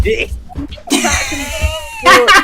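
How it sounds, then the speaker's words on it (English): A woman coughing and sputtering on live television, a dense fit of harsh, throaty coughs and choked vocal sounds in quick succession, close and loud, ending in a few sharp bursts. "That woman up there having a coughing fit."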